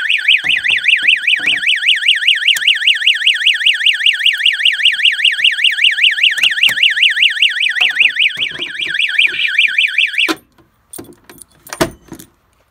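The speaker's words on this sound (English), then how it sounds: "We'll go ahead and test the notifier MBD12L under the stopper, so this is going to be quite annoying." A fire alarm notifier, model MBD12L under a stopper cover, sounds a loud, fast warbling electronic tone for about ten seconds, then stops, leaving a few clicks and handling noises.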